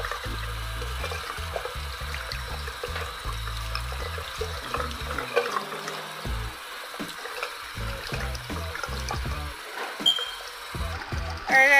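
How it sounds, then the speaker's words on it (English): Tap water runs steadily into a sink while a plant is rinsed under it, the flow gurgling and splashing unevenly, close and continuous with no talking, for an aquarium betta fish setup. "all I have to do is just rinse off the plant a bit"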